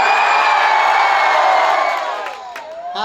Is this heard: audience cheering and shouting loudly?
yes